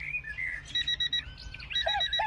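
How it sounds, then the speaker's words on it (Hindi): An alarm clock rings with shrill, warbling electronic beeps in short repeated bursts, moderately loud over a low background hum. "अगले दिन अलार्म क्लॉक रोज की तरह चीखी"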